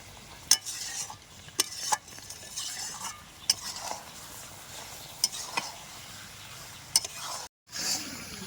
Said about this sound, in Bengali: এবার ভালো করে নাড়তে হবে, তলে যেন লেগে না যায়। ভালো করে নেড়ে মিশিয়ে নেব।